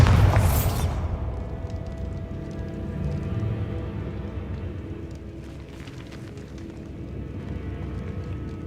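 A Bombarda spell detonates in Hogwarts Legacy, a sharp close blast at the start that settles into a long rumbling, rattling decay of debris and ambient game sound.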